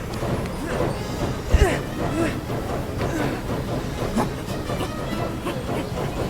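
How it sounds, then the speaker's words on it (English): A train rumbling past in the video game Tintin Reporter: Cigars of the Pharaoh, a continuous rolling clatter with rhythmic clicking and a sharp knock partway through, heavy and near, with brief voices over it. "The train is coming."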